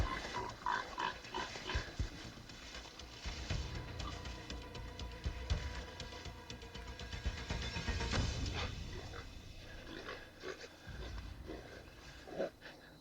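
A wild pig in Hawaii, just shot during a hunt, grunts and squeals repeatedly at close range, with irregular snorting bursts throughout and scuffling noise around it.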